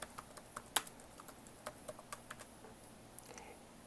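Typing on a computer keyboard, with a quiet, close run of light, irregular key clicks and one sharper tap near the start, tapering off toward the end.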